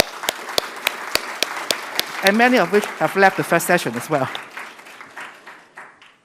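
At the Celebration of BIM Achievement 2022 awards ceremony in Hong Kong, scattered audience claps ring out, sparse and evenly spaced at first. Someone speaks over them, and the clapping thins and fades away.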